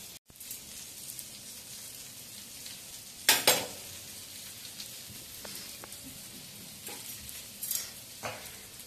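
Fish pieces with green chillies sizzle steadily in a frying pan, a constant hiss with occasional louder bursts as the pieces are stirred or turned, and no talking.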